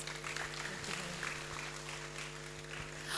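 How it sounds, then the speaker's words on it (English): An audience at a mental health day plenary session gives a speaker another round of applause, heard as a faint, distant, continuous wash of clapping over a low electrical hum. "Can we give him another round of applause?"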